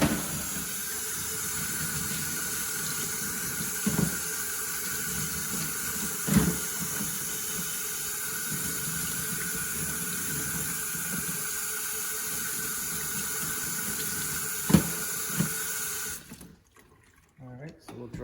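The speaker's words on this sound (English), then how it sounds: "what I'm gonna do is take these and rinse them off real quick" A steady rush of tap water pours over engine pistons being rinsed in a sink, continuous and close with a few knocks of parts handled, cutting off abruptly near the end.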